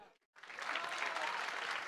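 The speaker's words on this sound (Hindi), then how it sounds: "तो एक बार जोरदार ताली।" Students in a coaching classroom burst into loud, sustained clapping after a brief pause, a dense wash of hands that holds steady to the end.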